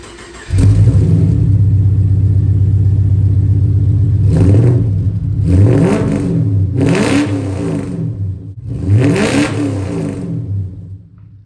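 A loud car engine, a Holden Commodore LS1 V8 with extractors and a 2.5 inch catback exhaust, starts with a deep rumble and idles, then is revved hard four times, each burst climbing and dropping back to a throaty idle.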